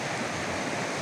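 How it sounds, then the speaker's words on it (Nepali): The Rudi river, a stony mountain stream, flows steadily nearby with a dense, even rushing hiss and no breaks or voices. "यसलाई रुदी खोलो भन्छ गाइसहरू"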